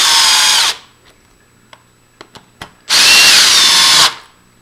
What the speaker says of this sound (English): And now we're just going to go ahead and screw those in.